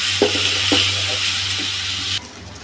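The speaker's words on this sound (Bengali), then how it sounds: "আদা রসুন পেঁয়াজ এখন একসাথে আগে দিয়ে দেব। এগুলো আবার একটু ভেজে নেব।" Onion, garlic and ginger frying in a pan, with a steady close sizzle and a few soft stirring scrapes, the sizzle dropping off near the end.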